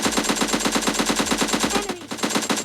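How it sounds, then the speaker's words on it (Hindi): Rapid automatic AKM rifle fire in a battle-royale style shooter game, a loud, steady stream of close shots with a brief dip near the end before firing resumes. "तो अब उसे नो स्कोप AKM से थोड़ा सा डैमेज देते हैं।"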